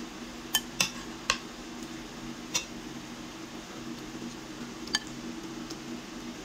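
Plates and dishes clink faintly while shrimp sinigang is served, with about six light, sharp ceramic taps spaced irregularly over a soft steady fan-like hum.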